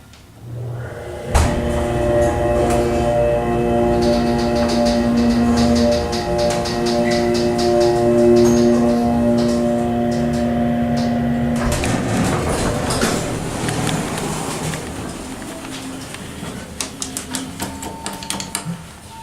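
A hydraulic service elevator at a campus bookstore starts with a thump, then its motor drones with a steady hum. Clunks and rattles follow near the end.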